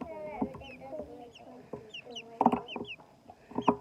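A small Pekin bantam hen clucks in short, quiet bursts close by, with a few sharper squawky notes and faint chirps from other birds in the background.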